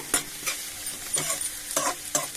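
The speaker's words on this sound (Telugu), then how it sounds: "వేపుతూ ఇది కలుపుకోండి" Bitter gourd and potato curry is stirred while it fries in a pan, with a spoon scraping the pan in five or six distinct strokes over a steady close sizzle.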